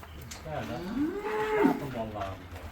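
Simmental and Angus cattle on a breeding farm moo once in a long, loud, rising-then-falling call that lasts a couple of seconds, close by, with no talking.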